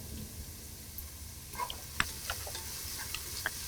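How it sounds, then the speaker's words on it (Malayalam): Green chili, ginger, garlic and curry leaves are sautéed in a pan, giving a soft steady sizzle punctuated by light scraping and a few sharp ticks of a spoon against the pan. "നമ്മൾ എടുത്തു വച്ചിരിക്കുന്ന പച്ചമുളക്, ഇഞ്ചി, വെളുത്തുള്ളി, കറിവേപ്പില എന്നിട്ട് നന്നായിട്ട് വഴറ്റുക"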